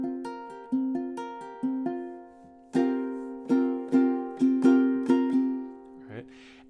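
Ukulele picked and strummed in a pattern from a song, with bright plucked notes and chords in a steady rhythm, close and clear, ending in a brief rustle.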